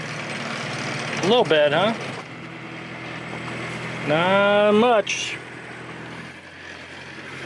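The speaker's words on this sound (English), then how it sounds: "we'll put this dude in reverse and we'll rev it up a little bit" A sailboat's engine is revved in reverse while the anchor sets, a steady low motor drone running throughout beneath two short bursts of talk.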